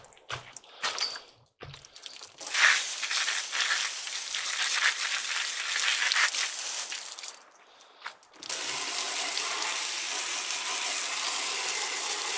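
Water is sprayed and brushed over algae-covered wood during cleaning without a pressure washer, giving a continuous hissing, splashing wash with brief pauses and a steadier spray toward the end.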